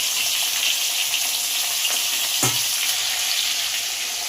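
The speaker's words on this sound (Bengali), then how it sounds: "এবার আমি আলুগুলো ছেড়ে দেবো। আলুগুলো একটু ভালো করে ভেজে নেব।" Potatoes frying in white cooking oil tempered with black cumin and green chillies, a steady close sizzle throughout with a brief louder spatter midway.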